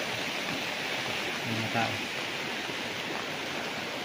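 A river flows beside a farm lot in Nagcarlan, Laguna, giving off a steady, broadband rushing wash that holds even throughout, with a brief voice surfacing faintly over it.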